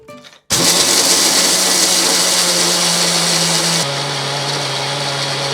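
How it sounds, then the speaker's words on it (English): A blender grinds seeds and cashews for a strawberry milkshake, kicking in loud after a brief quiet start and whirring steadily, its pitch dropping slightly near the end as the load changes. "Grind the seeds and cashew first."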